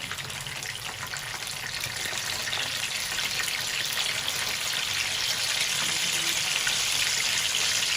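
Chapli kebabs fry in a pan of hot oil, making a steady, dense sizzle that holds at an even level from start to finish, close up and with no voices.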